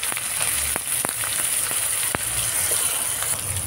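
Cut eggplant pieces fry in hot oil with dried red chillies, black cumin and cumin seeds, giving a steady close sizzle broken by scattered sharp pops and crackles.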